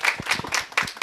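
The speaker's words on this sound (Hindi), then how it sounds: "आप तमाम लोग अपने ही लिए एक बार ताली बजाएं कस के।" An audience at an Inner Wheel Club women's event in Ramgarh claps in a short burst of close, uneven handclaps.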